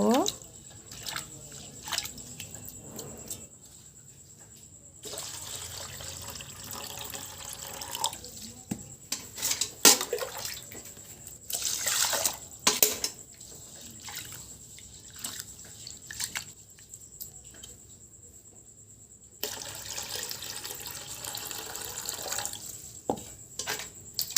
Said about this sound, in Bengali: আমি এবার চালটা ধুয়ে নেব।